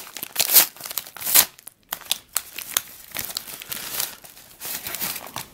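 Someone opens a mailed package of stickers from Oliver's Stickers, with close, irregular crinkling and crumpling of plastic and paper, a few sharper tearing bursts, and no talking.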